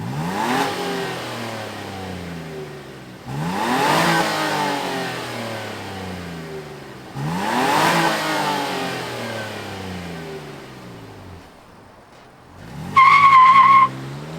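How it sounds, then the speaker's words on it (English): The engine of a 2022 Nissan Frontier Pro-4X truck revs in three loud, swelling bursts with falling pitch sweeps, each easing back between, before a short high tone sounds near the end. "let's fire up this Frontier Pro-4X and hear what it sounds like"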